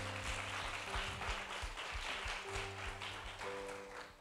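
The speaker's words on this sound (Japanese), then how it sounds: "神様に大きな拍手しましょう。" A church congregation applauds together, a dense, even round of clapping that carries on steadily from start to finish, fairly distant and soft with a low hum beneath.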